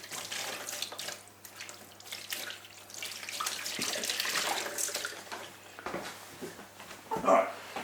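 Tap water runs and splashes unevenly over food being washed in a kitchen sink, close and continuous, with a short dog bark near the end.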